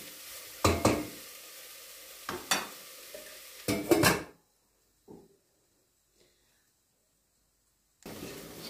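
Onions being stirred in a pan with tomato for a Brussels sprouts and meat stew: a few separate clattery scrapes of a spoon against the pan, a quiet pause, then another stir.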